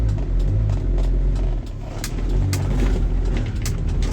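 Another car turns out onto the road close by, its engine droning and rumbling low and steady, with a slight rise partway through. The recording is made from inside a 1994 Nissan Atlas truck with a continuous idle hum.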